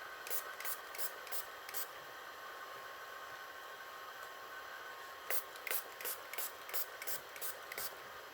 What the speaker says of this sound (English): I am going to give this a light spray.